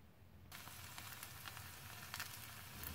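Breaded fish drops into hot oil and starts frying, a quiet steady sizzle with crackling pops that begins abruptly after a near-silent half second.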